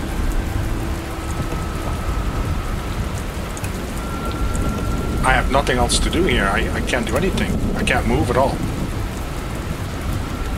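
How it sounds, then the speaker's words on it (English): Heavy rain pours steadily over a forest in the Dustland Delivery video game, a dense continuous hiss with a faint distant rumble, while a voice speaks over it midway. "We're in a forest with heavy rain."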